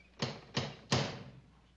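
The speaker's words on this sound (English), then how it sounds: "he knocks on the door" Three sharp knocks on an apartment door, evenly spaced and fairly close, each a crisp thud with a short ringing decay, then quiet.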